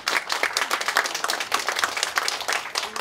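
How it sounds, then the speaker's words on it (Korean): A lecture audience claps for a photography professor taking the floor, a short burst of close, distinct handclaps in an uneven rhythm with no talking. "박수"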